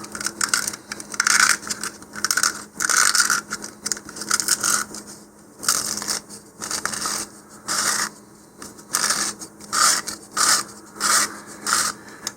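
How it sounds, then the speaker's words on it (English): Hand sanding of a PLA 3D-printed model rocket part, with repeated rhythmic rasping strokes in short bursts and brief pauses between them, close up and moderately loud. "Fortunately, PLA sands really quickly."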